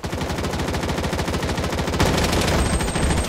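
Rapid automatic gunfire from Project: BloodStrike rattles in a fast, even stream of loud, close shots. Partway through it grows denser and heavier, continuing without pause.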